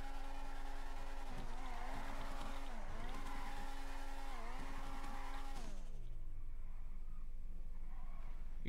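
Simulated car engine in a drifting video game revs steadily in second gear with a rising and falling harmonic whine, then the pitch sweeps down as it lets off, continuous and fairly loud with no talk.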